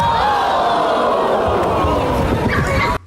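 Crowd sound effect: a loud, continuous roar of many voices cheering and shouting, steady throughout and cutting off abruptly at the very end.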